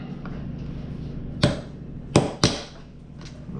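A chisel taps a screw on a KX65 engine, three sharp metallic strikes close by, two of them in quick succession, over a low steady hum.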